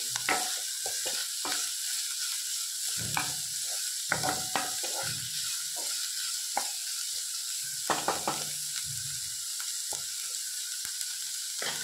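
Mumbai-style masala pav mixture cooks in a pan, a steady sizzle under frequent spatula scrapes and knocks against the metal, close and busy throughout.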